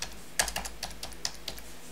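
A computer keyboard clicks as a Social Security number is entered into tax return software, a quick run of close, crisp keystrokes with uneven spacing and no voices.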